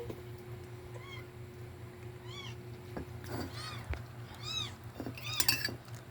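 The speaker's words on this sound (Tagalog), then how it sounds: "There's a kitten down there." A small cat gives several high, thin meows at intervals, fairly close, over a low steady hum with a few faint clinks.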